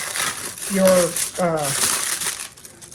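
Close press-and-seal plastic wrap crinkles and rustles in short bursts, with a brief tearing sound, over a soft background hiss.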